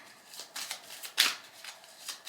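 Tarot cards are shuffled by hand in a run of soft papery riffles and slaps, with one sharper flick near the middle, close and fairly quiet, with no talking.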